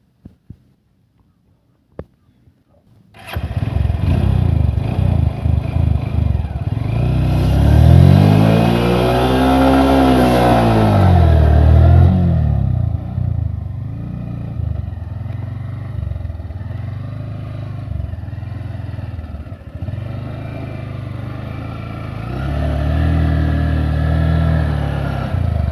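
A motorcycle rides on sand, its engine revving up and down loudly and near, with rising and falling pitch sweeps and a steady running drone. A few faint clicks come before it starts.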